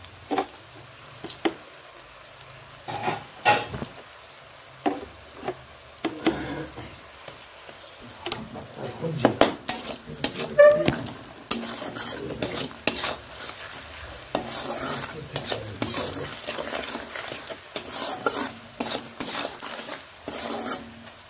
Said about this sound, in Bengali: বেশি খুব লাল লাল করে ভাজবো না পেঁয়াজ।